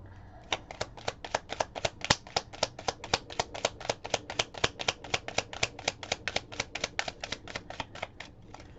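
Tarot cards being shuffled in a fast, even series of sharp riffling clicks, about three or four per second, close and crisp against a quiet room.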